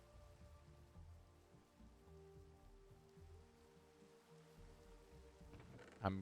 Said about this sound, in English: we've got a little bit of a rainy day, which is very nice